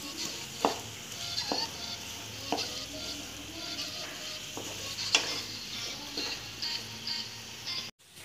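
Onions for chilli chicken being stir-fried in a pan, a steady sizzle broken by several sharp scrapes and knocks of the spoon stirring at irregular intervals, close and moderately loud with no talking.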